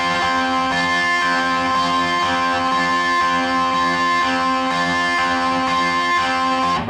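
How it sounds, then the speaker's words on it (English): Distorted electric guitar ringing out two sustained notes from a song, loud, steady and heavily overdriven, with no voices. "he puts the distortion on and plays those 2 notes like this."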